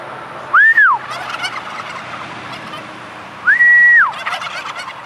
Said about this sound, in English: I love how I can make a sound and the turkeys will gobble